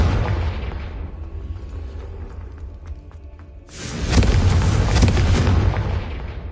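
A Confringo spell blast goes off in Hogwarts Legacy: after a stretch of steady game ambience, a loud fiery explosion bursts in and roars on as a dense, sustained rumble.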